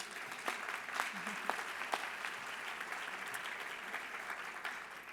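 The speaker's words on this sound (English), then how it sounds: "let's give all our sponsors and auction donors another round of applause, please" At the Commonwealth Institute's annual ceremony and luncheon, the audience applauds sponsors and auction donors. The clapping is faint and distant, an even wash of many hands with a few sharper claps.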